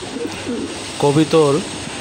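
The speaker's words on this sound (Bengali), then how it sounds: "সকালবেলা কবুতরের বাকুম বাকুম ডাক শুনলে মনে হয় প্রাণটা জুড়িয়ে যায়" Pigeons coo twice in quick succession, soft rolling calls heard close by over a quiet background.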